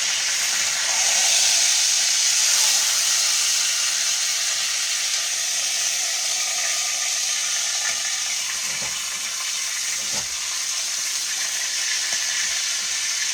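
A shoulder roast sears in a pot with a steady, loud hissing sizzle that barely changes throughout, plus a couple of faint low knocks toward the end.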